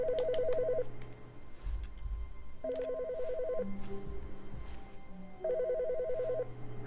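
In The Stanley Parable, a phone keeps ringing in repeated trilling bursts, three warbles spaced a few seconds apart, clear and near, with low rumbling noises and hum between them.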